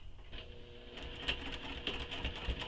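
A sewing machine stitches along the seam allowance around a curved fabric pocket, a quiet steady mechanical whir with faint regular ticking.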